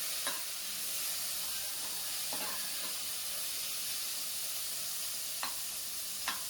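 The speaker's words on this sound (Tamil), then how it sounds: "எல்லாத்தையும் நல்லா வதக்கிட்டு" Tomatoes, onions and curry leaves sauté in a pan for mutton kulambu, giving a steady hiss of sizzling oil punctuated by a few sharp scrapes and stirs of a spoon.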